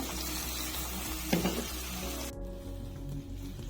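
Chopped onions frying in hot oil in a pan, a steady broad sizzle with a brief stirring clatter partway through, before the hiss drops away sharply near the end.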